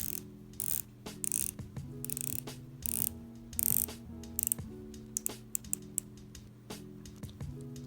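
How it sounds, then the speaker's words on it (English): Crisp ratcheting clicks come close up as the rotating 90-click bezel of a Pagani Design Submariner-style watch is turned, in quick irregular runs over soft background music. "We have a 90-click rotatable bezel."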